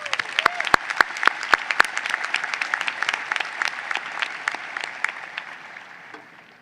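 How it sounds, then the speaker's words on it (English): Honors convocation audience at a university commencement applauding award finalists, sustained crowd clapping with a few loud, sharp nearby claps over the start, slowly fading by the end. "Please join me in applauding the accomplishments of these finalists"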